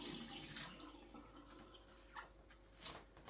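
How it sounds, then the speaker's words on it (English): Brewed tea with tea bags poured off into a sink: a faint, steady splashing trickle of liquid with a few small drips and gurgles, quiet and continuous throughout. "Now I'm going to pour the tea off into the sink"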